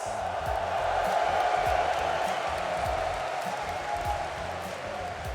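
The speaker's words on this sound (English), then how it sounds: "You can hear from the roar of the crowd that you are the team here, the crowd favorite." A large London esports arena crowd at a Rocket League major roars and cheers continuously, a dense, loud, sustained wash of voices with bursts of shouting throughout.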